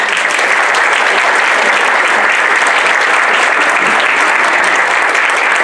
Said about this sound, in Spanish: Demos la bienvenida a la doctora con un fuerte aplauso.